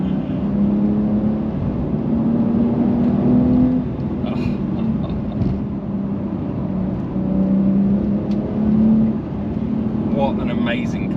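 A Porsche 911 992 Carrera 2 GTS with a manual gearbox cruises in third gear on a 55 mph road, its engine a steady loud drone with rising and falling whine throughout, close and continuous, with a voice talking over it.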